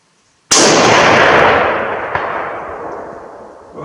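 Single sharp shot from a Russian Mosin Nagant M91/30 PEM sniper rifle firing full metal jacket ammunition at 400, a loud abrupt crack after near silence followed by a long rolling echo that slowly fades.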